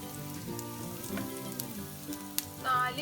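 Crushed ginger sautés in a hot pan for chilli gobi, a soft steady sizzle and crackle with faint stirring scrapes, close and quiet, with no one talking.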